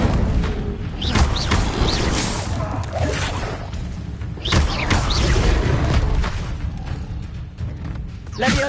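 Incendio fire-spell blasts in Hogwarts Legacy burst in repeated whooshing booms over rumbling game effects, with a player shouting spell names.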